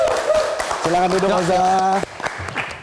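Applause for comedian Oza at a live stand-up comedy show runs as a steady background patter beneath someone speaking into a microphone, with the clapping partly masked by the voice.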